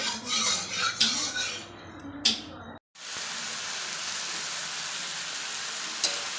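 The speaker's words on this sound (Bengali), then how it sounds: "এটা মোটামুটি ভাজা হয়ে গেলে চাউটা দিয়ে দেবো তো লাল লাল ভাজাটা হোক" Sliced vegetables, including carrot, beans and cucumber, fry in a pan before chow mein is added. Clatter and voices come first, then a steady loud sizzle takes over after a brief silent gap.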